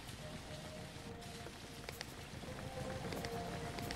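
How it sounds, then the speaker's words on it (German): Rain falls steadily on a car driven in the video game Jalopy, a soft constant patter with scattered drop ticks over a low engine rumble. "Beim Regen fahren."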